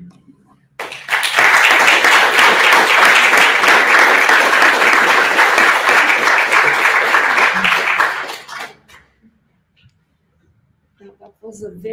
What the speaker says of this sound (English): I will also clap for my 2 supervisors